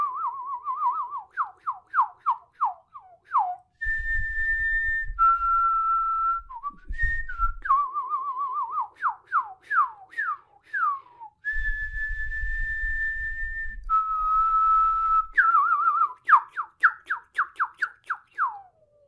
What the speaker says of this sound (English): I have a strong connection to the whistle.